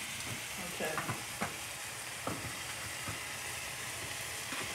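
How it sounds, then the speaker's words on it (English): Butter melts in a hot frying pan with a quiet, steady sizzle and a few soft clicks and scrapes of a utensil, with no voices. "I'm gonna put some butter in there in the frying pan"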